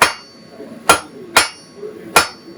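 A hammer strikes hot non-mild-steel stock such as copper, brass or stainless on an anvil in a forge. Four sharp, ringing blows come at an uneven pace, close and fairly loud, with faint room noise between them.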